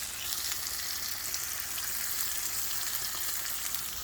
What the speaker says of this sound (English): That's when I know I can flip my over easy eggs.